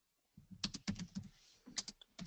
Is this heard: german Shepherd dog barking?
no